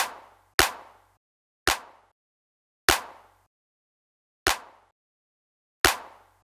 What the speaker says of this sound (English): here's some basic compressor settings that I put on a snare to make it sound like this